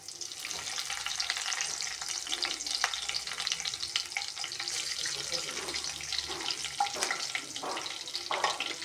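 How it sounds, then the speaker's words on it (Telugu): Cumin and curry leaves frying in oil, a soft steady hiss broken by small crackles and pops, fairly quiet and close, with no voices. "ఈ విధంగా ఏగేటప్పుడే ఒక రెబ్బ కరివేపాకు వేసుకోవాలి"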